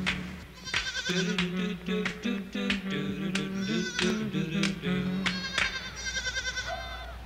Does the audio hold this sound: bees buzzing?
no